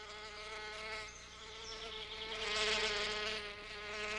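Male bees' buzzing wings hum steadily nearby, a droning whine that swells and wavers as the bees fly about among flowers.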